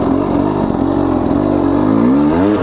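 A KTM 300 Enduro dirt bike engine revs hard and steady while climbing a hill off-road, a loud, close, sustained two-stroke roar with rising pitch toward the end and no talking.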